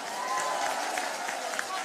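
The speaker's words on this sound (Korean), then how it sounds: "우리 국회의원님들에게 큰 응원의 박수 한번 보내드려야 안 되겠습니까?" An audience at a Busan party New Year greeting event claps, a steady wash of applause with crowd noise and voices mixed in, brief and fairly distant.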